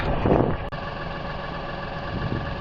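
A tractor engine idles with a low, steady rumble and a few brief knocks, running close and even from start to finish.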